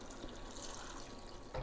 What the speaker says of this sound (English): I'm going to go ahead and pour in 4 cups of beef stock